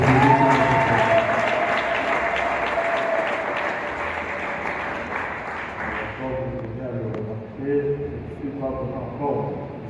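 A church congregation applauds loudly and continuously on Divine Mercy Sunday, the dense clapping slowly thinning into scattered claps toward the end, with voices calling out over it.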